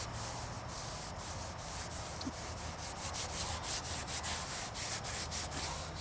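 A rag rubs wax into the rubber top seal of a Jeep CJ7 fiberglass hardtop, giving a soft, steady scrubbing sound with repeated brisk strokes, close and fairly quiet.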